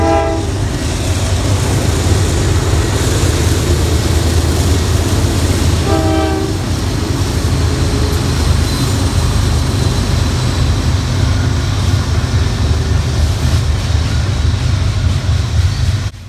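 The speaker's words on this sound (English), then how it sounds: "a loaded grain train from Cicero, Illinois, heading to Martins Creek" Loaded Norfolk Southern grain freight train from Cicero, Illinois, led by a worn locomotive with two BNSF units trailing, rumbles past loudly and close on the Pittsburgh Line at Cresson, with a short horn blast near the start over constant heavy rail roar.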